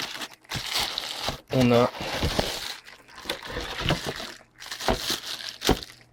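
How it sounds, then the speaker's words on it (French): Crinkling plastic packaging around a microphone shock mount being unwrapped, close and fairly loud in bursts, with a voice talking over much of it. "je vais déballer l'araignée"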